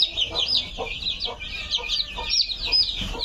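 Chickens clucking beside a breeding pen on a farm raising chicks, with repeated close clucks and soft calls under a constant high bird or insect chatter.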